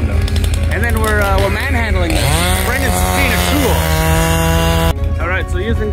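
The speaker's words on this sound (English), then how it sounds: "and a chainsaw. Cut it all apart." Chainsaw cutting apart a bridge structure out in the bush, a loud, sustained engine whine running steadily through the middle of the clip beneath voices and other overlapping sound.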